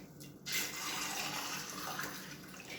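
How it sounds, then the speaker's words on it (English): Water poured from a tap over dried beans to cover them for soaking, a steady rushing splash that starts abruptly after a short pause and keeps flowing at an even level throughout. "we're just going to add water to cover the beans and let them soak"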